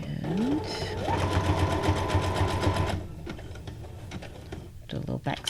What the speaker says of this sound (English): We're still just sewing our pockets.